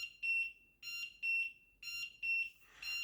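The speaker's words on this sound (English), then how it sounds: "And there is the alarm. I think the sound is very loud." A large LED digital wall clock alarm beeps in a quick repeating pattern of shrill electronic tones, six short bursts with brief gaps, loud and close with no voices.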